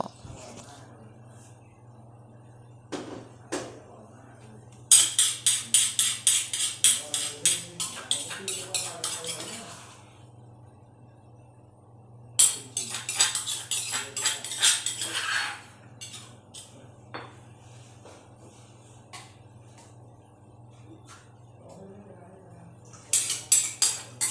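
Metal pots and utensils clink and scrape in bursts while a curry pot is set up in a northern Thai kitchen, with a steady low hum underneath and quiet gaps between the clattering spells.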